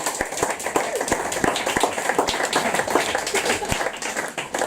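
An audience claps after Peter Ebsworth's talk, with dense, steady applause of many hands and a few sharper individual claps standing out near the listener.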